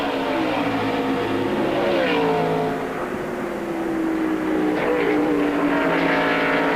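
Race cars at the 2000 Lysol 200 roar down the straightaway after the outer loop, a loud continuous engine drone with shifting pitch as cars accelerate, no talk over it.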